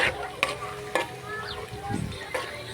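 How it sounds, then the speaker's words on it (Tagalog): Garlic and ginger sauté in a pan for ginataang gabi with snails, onion soon to follow: a soft, steady sizzle broken by sharp spatula scrapes and clinks at irregular intervals, close and moderately quiet. "Papula-pulahin lang po natin ang ating bawang at luya"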